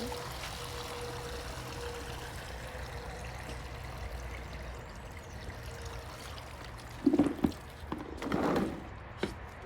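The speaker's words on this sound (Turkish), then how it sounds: "Suyunu boşaltıyorum." Water pouring and trickling out as it is drained off whole green olives soaking to be sweetened, a steady low stream, then a few louder splashes and sloshes near the end, close and fairly quiet.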